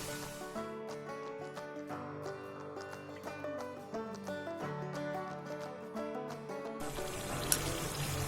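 Kara sev dough frying in hot oil, a dense continuous crackle and fizz of bubbling, fairly faint and steady throughout, with a brief brighter hiss near the end.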